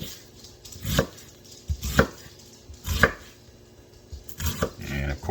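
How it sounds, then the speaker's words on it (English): A knife chops a small white onion on a board with five heavy thuds at roughly one-second intervals, near and distinct against a quiet background. "I'm gonna go ahead and get my onions cut up"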